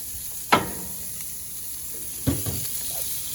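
Ribeye steak and salmon sizzling on a CrossRay gas grill, a soft steady hiss with two louder bursts as the pieces are laid down, no speech.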